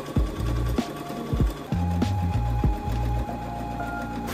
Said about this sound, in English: Now I'm going to sew along that curve.